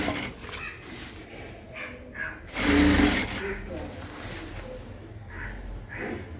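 A sewing machine runs in short bursts while top-stitching a dress top, with one louder, longer run near the middle and quieter stitching before and after, all close and clear.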